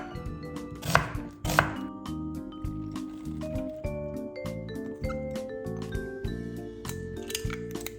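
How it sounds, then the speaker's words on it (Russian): Rapid knife chopping of an onion on a board, a dense run of sharp taps close by, with a couple of louder thumps early and soft music underneath. "Одну луковицу нарезаем максимально мелко и тоже отправляем в миску."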